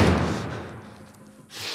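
Doors being slammed shut and barricaded in The Last of Us Part 1: a heavy thud that fades into rumbling, then a short rising scrape near the end.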